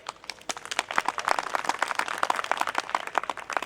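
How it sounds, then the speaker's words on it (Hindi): An audience claps during a speech, a dense burst of many hands applauding, fairly close and steady for a few seconds without a break, no talking over it. "यहां तक तो ताली बजाना ठीक है बंधुओं"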